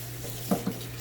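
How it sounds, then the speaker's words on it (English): A kitchen tap runs steadily into a bowl of cut cabbage, giving an even stream of water noise with a couple of brief splashes. "I'm going to fill it with water"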